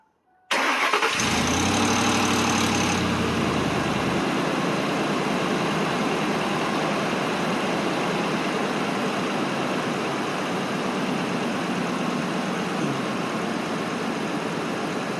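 A vehicle engine cranks and catches, then settles into a loud, steady idle that runs close and uninterrupted for the rest of the clip.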